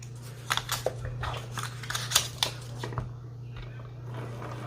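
Scissors snip through a laminated pocket for a Classic Happy Planner, giving a handful of quick, crisp cuts at close range over a steady low electrical hum.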